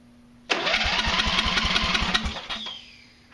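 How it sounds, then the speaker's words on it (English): Tractor engine with a carburetor fault cranking on starting fluid, a rapid series of starter turns with sputtering firing pulses, loud and close, then a cut-off and a fading whine. "I've got starting fluid here in order to see if it'll stay firing"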